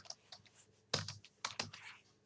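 Keys clatter on a computer keyboard during Excel data entry, with a few scattered light taps and then two quick bursts of close, crisp typing in a quiet room.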